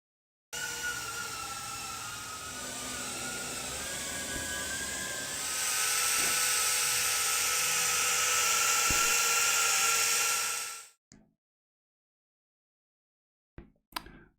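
A tiny Airpix selfie drone flying close by, a high whirring buzz of small propellers that rises in pitch and loudness midway, then cuts off abruptly, followed by a few short clicks.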